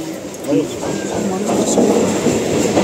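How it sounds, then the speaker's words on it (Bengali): A train pulls into a station on the way to Canning, its rumbling, rattling wheels filling the platform at close range while people talk over it. "আমাদের ট্রেন এসে গেছে"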